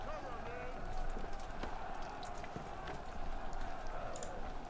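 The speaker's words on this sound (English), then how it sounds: "we'll get our horses to charge them down" Cavalry horses gallop into a charge in the Ultimate General Civil War game, a steady faint rumble of many hooves with distant battle noise throughout.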